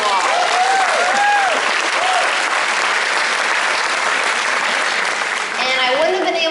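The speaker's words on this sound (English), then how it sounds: "So if we can give them a round of applause." A large crowd claps for the event hosts inside a big hangar, a loud, sustained roar of applause with a few voices and whoops riding over it.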